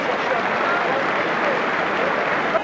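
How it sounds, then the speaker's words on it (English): A big stadium crowd of about 30,000 at the SCG applauds a French rugby player in a 1986 Australia versus France match, a broad, steady wash of clapping heard from a distance. "giving Blanco a warm round of applause"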